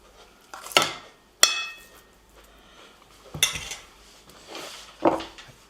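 Dishes and cutlery clink and clatter while skirt steak and garlic mashed potatoes are plated up: a handful of sharp, close metallic and ceramic knocks spaced out over a few seconds.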